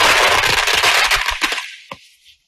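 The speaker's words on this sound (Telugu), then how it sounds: "టపాసులు కాల్చి ఊరి జనం సంబరాలు చేసుకున్నారు." Villagers set off firecrackers in celebration out in the street: a rapid, crackling string of loud pops for about a second and a half, ending in one sharp late bang and a brief fading tail.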